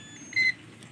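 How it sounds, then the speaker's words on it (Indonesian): A multimeter buzzer sounds one short, clear beep during a continuity test on speaker cable, close by and alone against a quiet background. "Di sini saya akan menggunakan fitur buzzer dari multimeter."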